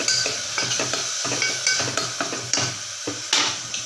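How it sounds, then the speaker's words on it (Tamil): A spoon stirs tomatoes and green chilies in a pot for a rice-free sambar dish, with repeated scraping clinks against the metal over a soft sizzle and no talking. "இதை நல்லா கலந்து விட்டுட்டு"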